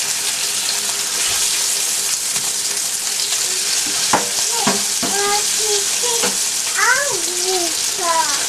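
Sea bass fillets pan frying give a steady, close sizzle that holds throughout, with a brief voice rising over it near the end.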